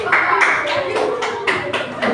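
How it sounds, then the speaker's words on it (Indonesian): Classroom applause for students after a group presentation, a run of fairly close, regular claps in rhythmic bursts, with voices faintly underneath. "Silakan beri tepuk tangan."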